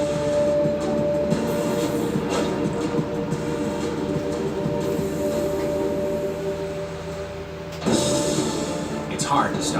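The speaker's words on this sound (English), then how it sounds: "It's hard to stop a train." A train rumbles and clatters continuously at close range, with a steady tonal hum and a louder surge near the end, while voices talk over it.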